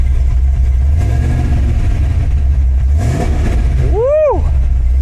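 A loud C8 Corvette engine rumbles close by in a garage, then revs sharply up to about 2,000 RPM and back down once near the end; a voice can be heard over the idle.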